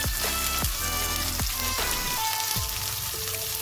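Green chillies fry in hot oil in a pan for a breakfast dish, giving a steady, close crackling sizzle broken by several dull thumps of the pan or spoon. Nobody speaks.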